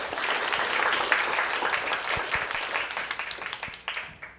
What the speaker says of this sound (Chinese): 我们热烈的掌声来欢迎于静院士